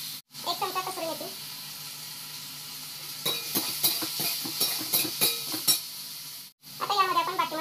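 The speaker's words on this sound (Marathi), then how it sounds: "कढीपत्ता छान किती ब्राऊन कलर येईपर्यंत आपल्याला ते परतून घ्यायचं." Curry leaves, tomato and spices sizzle in a hot pan while being stirred, a steady frying hiss with scraping stir strokes, close up, with someone talking at the start and end.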